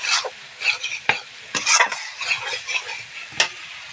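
Spices and turmeric sautéed in oil for bhetki fish kalia: brisk spatula scrapes and taps in an irregular rhythm over a light, close sizzle, with no one speaking.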